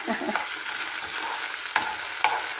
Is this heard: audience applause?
no